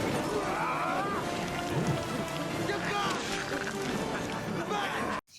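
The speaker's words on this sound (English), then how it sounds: "It's raining." Steady rain falls continuously outdoors, a dense even hiss that persists across the whole stretch, with brief voices and other sounds mixed underneath before it cuts off at the end.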